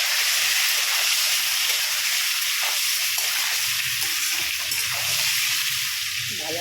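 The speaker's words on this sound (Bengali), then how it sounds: "ভাজা করে নেব পটলগুলো সব বন্ধুরা" Pointed gourds (potol) seasoned with salt and turmeric fry in a pan, a continuous loud hissing sizzle that holds steady throughout, close, with no talk.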